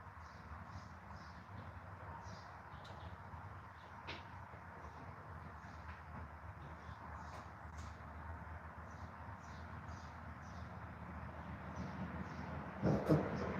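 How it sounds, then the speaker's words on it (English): A bird chirps repeatedly in short, evenly spaced bursts, faint and somewhat distant, over a steady low background rumble, with no talking. "Oh, it was a bird."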